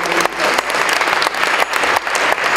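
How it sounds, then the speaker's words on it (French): Audience applause at a Paris Entreprendre business gathering, a full room clapping loudly and steadily, the dense patter pulsing slightly but never letting up. "On peut applaudir ce beau geste, comme ce joli cadeau."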